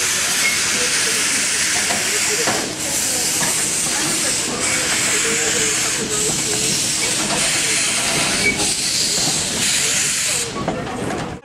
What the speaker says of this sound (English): Not too many people can say they've ridden on an 88-year-old steam train before.